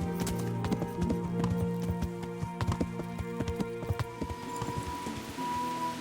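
Rain falling at Sasau Monastery in Kingdom Come Deliverance, a dense patter of drops over a steady clip-clop of horse hooves, close and fairly loud throughout, with no talk.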